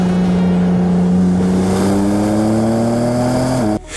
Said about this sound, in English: the legendary S58 twin-turbo straight 6, pumping out a massive 473 horsepower